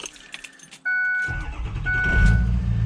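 A diesel truck engine turns over on a cold morning with its starter, the cranking whine kicking in after a quiet pause, then a loud rumbling catch as the big engine fires and settles into a rough idle.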